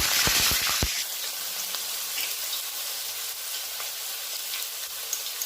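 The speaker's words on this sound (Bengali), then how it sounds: "তেল গরম হয়ে গেছে, এবার আলুগুলোকে আমি ভেজে নেব" Potatoes frying in hot oil for a mutton curry sizzle steadily and close, with a few sharp spatters and crackles at the very start settling into an even hiss with no talking.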